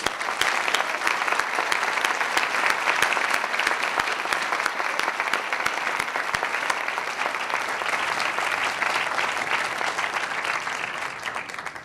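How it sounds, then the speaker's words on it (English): Sustained audience applause at a campus dedication ceremony, dense and steady, loud and close, continuing for the full length before tapering slightly at the end. "A bit of applause for those folks, please."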